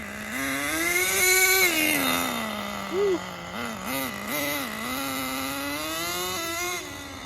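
A small high-pitched nitro engine in a Thunder Tiger Tomahawk RC car buzzes and revs up and down in quick bursts, close by and loud, with a nasal, whiny tone.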